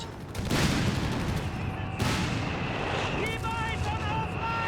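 Artillery blasts and gunfire in the Company of Heroes 3 strategy game as anti-tank half-tracks hit German machine gun teams, booming impacts and rumbling fire close up, with a commentator talking over the battle.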